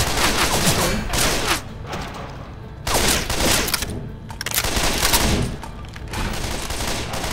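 Loud, sustained gunfire in Left 4 Dead 2: dense bursts of shots rolling almost continuously for several seconds, broken by brief lulls, with no talk over it.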